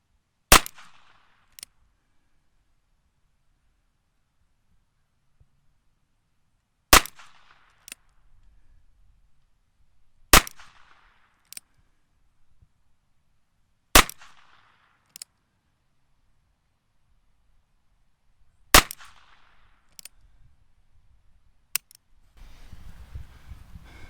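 Ruger Wrangler revolver shots at targets crack sharply and loud, five main reports spaced a few seconds apart, each followed by a fainter click or ping, with near silence between and rustling at the end.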